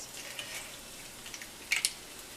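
Garlic cloves saute in a pan over medium-high heat with a faint, steady crackling sizzle, broken by a few brief brighter pops and stirring clicks near the end.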